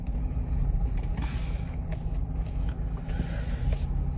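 Ford Endeavour SUV with automatic transmission being driven, a steady low engine and road rumble from inside the cabin with faint creaks, no talking.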